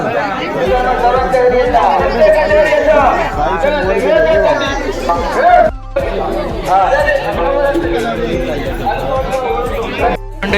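A dense crowd at a village fair (jatra) in Kumbharmath, Malvan, fills the air with continuous overlapping chatter and loud nearby voices, a thick unbroken babble with a brief dip midway.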